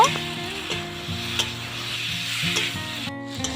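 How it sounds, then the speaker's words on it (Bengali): Potatoes and squash with spices frying in a pan, a close, steady sizzle with the scrape and knock of a spatula stirring in irregular strokes, no voices. "এবার সব কিছু খুব ভালো করে নেড়ে নিয়ে মশলা সহ আলু আর স্কোয়াশ দুই মিনিটের মতো চাল করে নেব"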